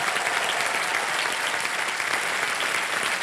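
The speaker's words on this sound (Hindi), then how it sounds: "तालियां बजते रहे सोनल जी के लिए।" Steady, dense applause from a studio audience on a Hindi television quiz show, loud and continuous throughout with no talking.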